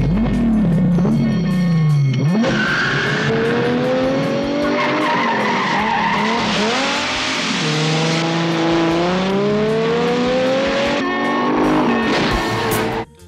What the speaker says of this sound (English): The car did make a great sound as it was driving by though.